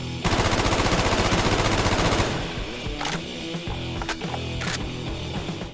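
Rapid automatic fire from an AUG assault rifle in Black Ops 1, a loud dense burst of shots for about two seconds followed by a few mechanical clicks and clatters of handling.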